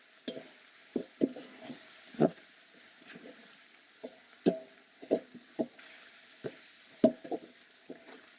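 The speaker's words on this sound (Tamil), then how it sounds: "புதினா கொத்தமல்லி நல்லா வத வதங்கிருச்சு எண்ணெயில்" Mint and coriander sizzling in oil as a large biryani batch is started, with a steady soft frying hiss and repeated wooden-spoon scrapes and knocks against the pot, close and irregular, no talk.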